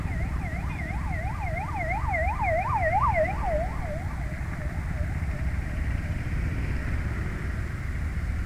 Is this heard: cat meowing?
no